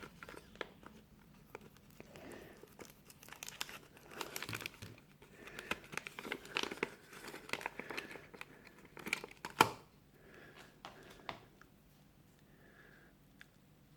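Packaging around a toy accessory set with an ammunition box, an M16 and an RPG is opened by hand, giving soft, close crinkling and rustling with irregular taps and one sharper snap.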